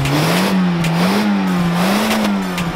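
BMW E46 car engine revving up and down in slow waves, a loud, nearby throaty drone that rises and falls several times.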